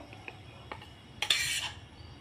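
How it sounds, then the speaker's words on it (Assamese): Soft scraping and clinks of a utensil against a plate as fried okra is served, a few light taps followed by a brief louder scrape, close and quiet. "আৰু ভাজিখিনি এই প্লেটটোত উঠাই লৈ আছোঁ।"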